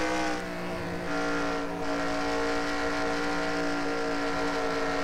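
Onboard engine note of the No. 42 stock car lapping Rockingham, UK in a racing video game, a steady loud drone that dips briefly as the driver lifts off the throttle before resuming.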